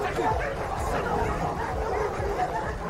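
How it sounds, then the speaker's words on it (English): A pack of many dogs from the film White God barks and yelps in a dense, continuous clamor, loud and close throughout. "Now the army of dogs from behind rushed in."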